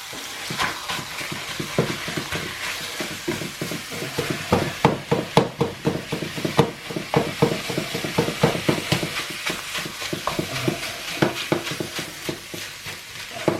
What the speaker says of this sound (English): we are going to brown this mince off